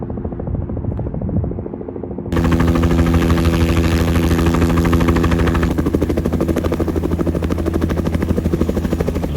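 A helicopter's rotor thuds loudly, starting moderate then suddenly growing much louder and closer, a steady rapid chopping that continues throughout.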